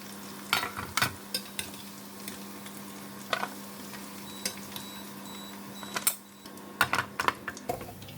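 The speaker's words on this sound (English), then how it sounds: "I'm going to continue to fry the meat for another 2 minutes" Pork ribs crackle in hot oil during double frying, a steady sizzle broken by sharp pops and spatters, fairly close, with no talking.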